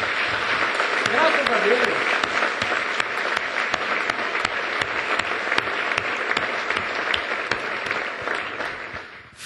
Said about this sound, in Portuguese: Toma posse, aplauda forte ao Senhor.